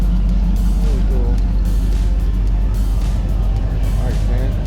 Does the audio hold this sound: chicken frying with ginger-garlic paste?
no